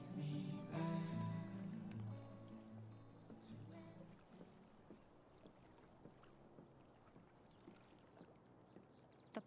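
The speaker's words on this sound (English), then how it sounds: "If not for the paddling, kayaking would be super relaxing." Kayak paddling in Life is Strange: True Colors, soft water splashes and strokes recurring at an irregular pace after a louder, tonal opening passage, fairly faint overall.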